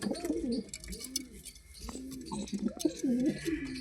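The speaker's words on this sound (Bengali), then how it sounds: "এই হচ্ছে পায়রা, এটা মাদি পায়রা" Pigeons, including a female kept for breeding, cooing in repeated soft, throaty rolling phrases, close and fairly quiet, with faint background chatter and small knocks.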